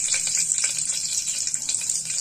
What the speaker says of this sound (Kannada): ಇವಾಗ ಒಗ್ಗರಣೆ ಹಾಕ್ತೇನೆ ರೀ ಸಾಂಬಾರಿಗೆ.